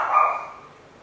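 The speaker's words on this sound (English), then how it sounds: "this fucking dog" A dog gives a single short, bright bark or yelp that quickly fades into a thin trailing whine, heard alone at moderate distance.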